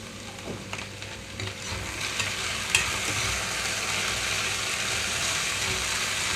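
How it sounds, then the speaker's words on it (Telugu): Sliced okra fries in a pan as salt is sprinkled in, giving a steady close sizzle with light scraping stirs and a few small clicks near the start, and no speech. "ఇక్కడ మూడు వంతులు ఫ్రై అయిపోయిన తర్వాత నేనైతే సాల్ట్ వేస్తున్నానండి"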